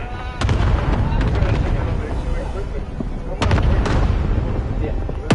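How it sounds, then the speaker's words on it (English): Cluster strike explosions rumble in Call of Duty Warzone, loud deep booming blasts, with heavy bursts near the start and again midway over sustained low rumble, while voices talk. "Bringing down an airstrike. Got your request. Cluster strike is active."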